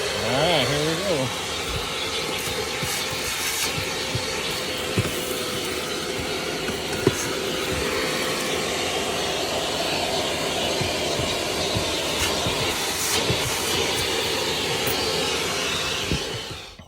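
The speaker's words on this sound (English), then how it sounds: "And then we'll vacuum out and put this back on, vacuum it out, and put the seat back on." Continuous vacuum cleaner whine and airflow while cleaning out the battery compartment of a 2017 Dodge Durango under the seat, loud and steady throughout, with a few brief knocks of the nozzle.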